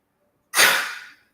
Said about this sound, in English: if it ain't coughing, it's sneezing.